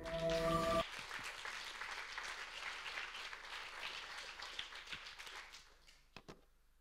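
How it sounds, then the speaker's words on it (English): Audience applause for a student project team at a game-school project defense, dense clapping filling most of the stretch after a brief speaking voice at the start, then thinning out to a few scattered claps at the end. "you can applaud them again"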